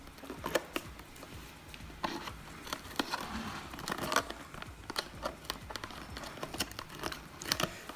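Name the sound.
opening Intel i7 8700K processor packaging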